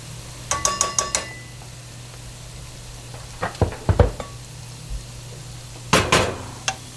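Flour sprinkled into a melted butter mixture in a pot for broccoli cheddar soup, with a faint sizzle under scattered spoon-against-pot clinks and scrapes in short bursts, close up, with no talking.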